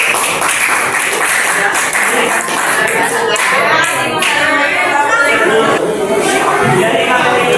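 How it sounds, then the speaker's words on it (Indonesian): Classroom applause for a student group after a math presentation, a dense wash of clapping and chatter from pupils sustained for several seconds with voices mixed through it. "Iya, tepuk tangan buat kelompok."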